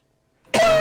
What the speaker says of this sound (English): let me first not die and cough